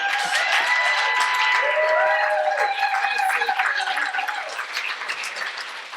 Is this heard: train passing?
no